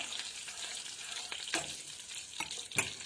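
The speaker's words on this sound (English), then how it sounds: "So just frying that for a few seconds more." Oil sizzles and crackles steadily in a pan while cooking kitchari, with a few sharper pops and spatters standing out against the continuous frying hiss.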